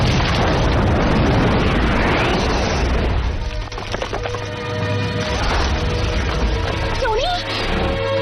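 A spaceship's reactor core explodes in a loud, sustained roaring blast that fills the whole stretch, with rumbling debris and crackling bursts continuing beneath a brief electronic whine near the end.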